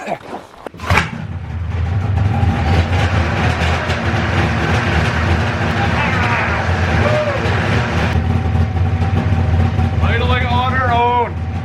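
An old pull-start snowmobile engine idles steadily in an enclosed space, a loud continuous rumble after an initial sharp bang, with a voice talking over it near the end.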